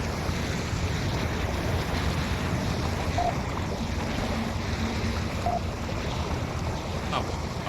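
Water floods into a submarine in the video game Barotrauma, a steady loud roaring rush with low turbulent churn throughout and no pauses, with no voices over it.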